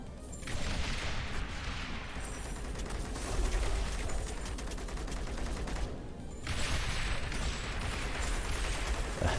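Mortar towers firing in the Rogue Tower video game, a busy stream of fairly faint thumping shots and impacts with mechanical clatter, pausing briefly midway before resuming.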